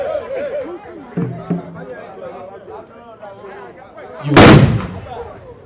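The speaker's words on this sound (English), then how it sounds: "It deserves the firing of a musketry because of the glory he brings to the Ghana State" A single loud blast from a ceremonial musket volley bursts out near the end, at a durbar of chiefs in Ghana. Before it, a crowd chatters and a voice speaks.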